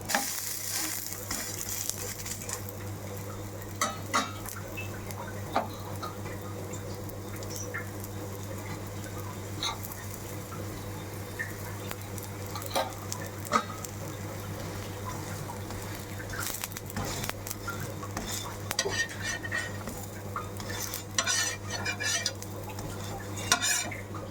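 A gram flour pancake (pudla) sizzles steadily in a pan, with scraping and clinks of a spatula as it is turned over, close and continuous.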